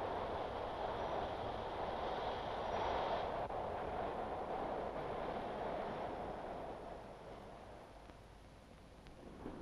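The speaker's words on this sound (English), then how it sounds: "On the City Circle's 6-mile electrified track, trains travel around the loop every 2 minutes during peak periods." Electric train running on the six-mile electrified City Circle loop in Sydney, a steady broad rumble and rail roar that stays loud and continuous before easing slightly toward the end, with no voices.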